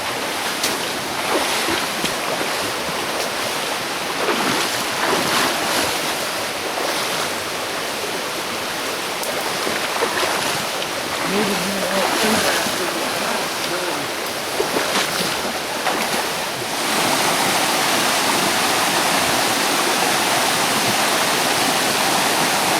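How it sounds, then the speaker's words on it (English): A river rushes loudly and steadily as people wade across it in the wild, with continuous turbulent water noise close by throughout. "Here we go, crossing the river."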